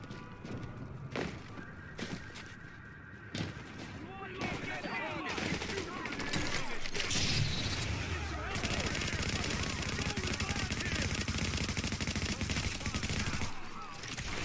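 Gunfire in The Division, bursts of rapid shots crackling through a busy, noisy game mix, heavier and more sustained in the second half.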